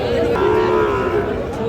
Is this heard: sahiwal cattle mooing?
yes